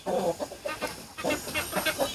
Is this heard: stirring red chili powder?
no